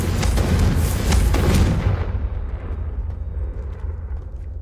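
A Confringo fire spell explodes in Hogwarts Legacy, a loud booming blast with crackling burst that rolls off and fades into a lingering low rumble over about two seconds.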